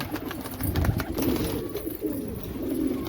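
Pigeons in a breeding loft coo softly in repeated low, throaty phrases, several birds overlapping at close to moderate distance, with faint rustling and no talk.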